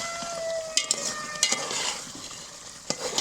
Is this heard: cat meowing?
no